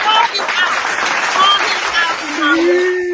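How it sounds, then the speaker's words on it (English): A studio audience on a podcast gives a round of applause: steady, dense clapping fills the whole three seconds, loud and close, with scattered whoops and whistles and voices mixed in. "Right, give us a round of applause."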